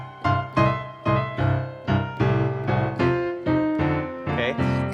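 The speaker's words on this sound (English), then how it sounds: "when you're first learning the blues, there's a very good chance that you were taught the blues shuffle, and it sounds like this" Blues shuffle on piano, a left-hand accompaniment pattern of repeated swung chords in a steady bouncing rhythm, close and moderately loud, alone without talk.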